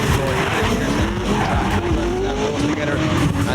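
Tyres on an LS-powered Nissan S14 drift car screech and skid at an Irish Drift Championship Pro2 final, a loud, continuous squeal layered over engine roar with commentary running underneath.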